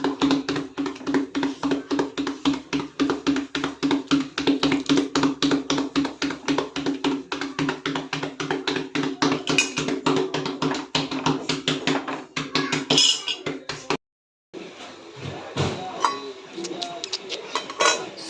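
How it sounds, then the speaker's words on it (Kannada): Dishes being washed under a running tap, with water streaming and pots and utensils clinking nearby; a voice speaks briefly near the end. "ಅದೇ ಗ್ಯಾಪಲ್ಲಿ ಪಾತ್ರೆನೂ ತೊಳೆದಿದ್ದೀನಿ"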